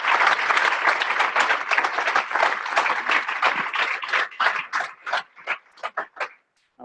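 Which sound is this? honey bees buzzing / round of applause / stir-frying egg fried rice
round of applause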